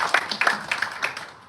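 Audience clapping at an inauguration ceremony for an incubation centre in Kolkata, a brief burst of distinct claps in an indoor hall, fading out at the end.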